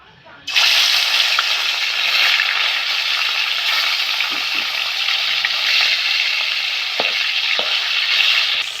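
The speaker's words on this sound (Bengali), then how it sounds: "তেলটা গরম হয়ে গেছে মাছগুলো ভেজে নেব" Chang fish drop into hot mustard oil in a kadai and burst into a loud, close sizzle after a brief quiet moment, a steady hissing spatter that holds strong throughout, with a few faint clinks.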